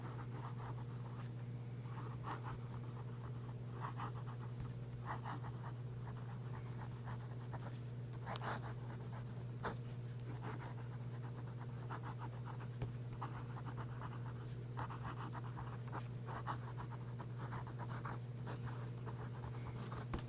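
Fountain pen fitted with a stock Jinhao nib writing on paper, a faint, steady scratchy rubbing that comes in short strokes under a constant low hum, with no talking.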